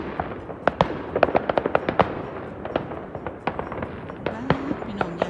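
Fireworks bursting during New Year's celebrations, a rapid barrage of sharp cracks and pops at varying distances, dense and irregular throughout, with a voice briefly heard in the background.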